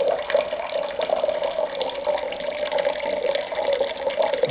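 Water pours steadily into a test gadget that works like a toilet tank, a loud continuous rushing and gurgling fill with no pauses and no talking.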